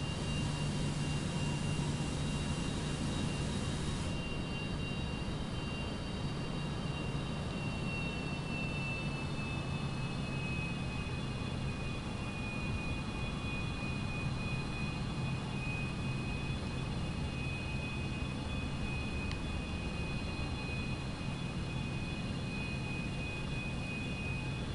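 Citation X business jet in Microsoft Flight Simulator 2024 on the runway spooling up for takeoff, a steady loud engine roar with a high whine holding throughout, no voices.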